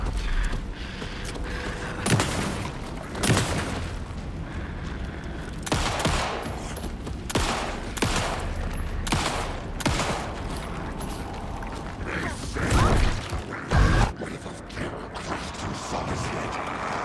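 Gunfire from shooting an armored enemy in the video game Alan Wake 2: a long run of loud, closely repeated shots with sharp bursts and booming impacts, spread across the whole stretch under a low game backdrop.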